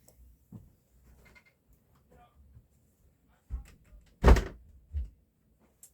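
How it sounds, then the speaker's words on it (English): A cat pushes open a room door indoors: a few soft thumps lead to one sharp, louder knock of the door and a lighter bump after it, with faint murmuring in a quiet room. "My door just opened."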